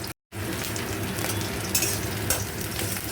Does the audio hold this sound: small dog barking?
no